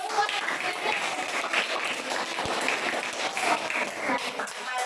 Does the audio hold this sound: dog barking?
no